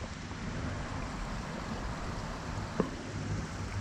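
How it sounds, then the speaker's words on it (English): Floyd's Fork Creek flowing outdoors, a steady broadband wash of water with some wind noise on the microphone and one brief knock near the end. "Here is Floyd's Fork Creek."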